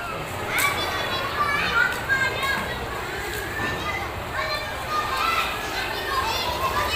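Children shout and play while bathing in a clear swimming spot, their excited voices close and continuous with a busy outdoor wash of noise behind.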